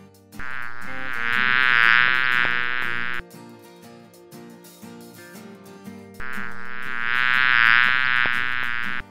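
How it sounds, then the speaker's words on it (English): A loud, close bee buzz drones in two long bursts, separated by a quieter stretch of light background music. "Bee."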